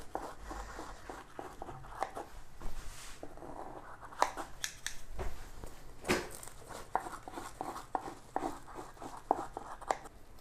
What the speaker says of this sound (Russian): Круглого ножа у меня нет, поэтому режу ножницами.